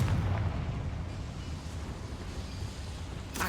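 A Confringo fire spell blasts in Hogwarts Legacy, a loud, rumbling burst of explosive noise that slowly fades over a few seconds, with a fresh crackle at the end and no speech.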